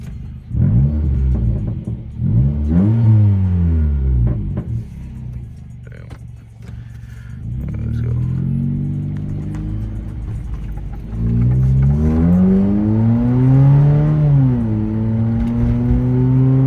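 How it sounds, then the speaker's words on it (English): A Honda Fit with upgraded power revs its engine loudly and close, pitch sweeping up and down in several long pulls, with voices heard between the revs. "let's get some revs"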